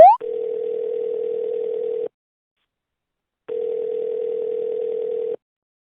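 Telephone dial tone, a steady pure hum in two long stretches of about two seconds each separated by a pause, loud and alone with no talk.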